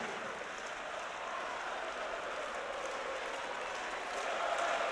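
Arena crowd at a Counter-Strike esports grand final on Mirage roaring and cheering in a steady, dense wall of noise that swells louder near the end, with voices faintly mixed in.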